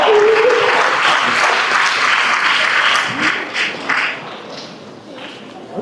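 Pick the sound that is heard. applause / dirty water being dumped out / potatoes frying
applause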